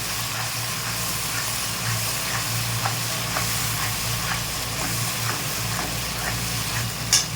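Egg curry masala with salt is stirred in a hot pan: a constant close frying sizzle with soft, even scraping strokes throughout.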